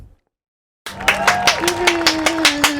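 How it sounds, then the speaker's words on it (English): Applause for a guest introduced on a talk show, a steady patter of claps after a short silence, with a voice speaking over part of it. "Let's give him a big round of applause."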